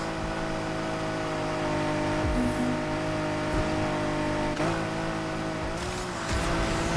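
A Nissan R32 in a Need for Speed Heat race, its engine drone steady and loud throughout with sustained harmonic tones, brief shifts in pitch suggesting gear changes and a faint tire note, no talking.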